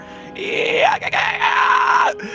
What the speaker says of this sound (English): you hear the scream of 100 different undead zombies emitting from this creature